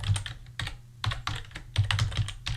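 Keys clack on a computer keyboard as code is typed, in quick uneven bursts of close, crisp keystrokes.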